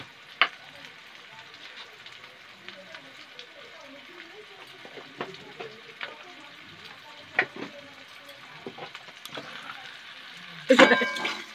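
Onions salted and frying in a pan give off a steady, soft sizzle close by, with scattered clicks of stirring and a louder burst of crackling near the end.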